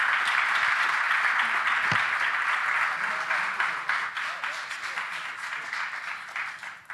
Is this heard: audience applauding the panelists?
yes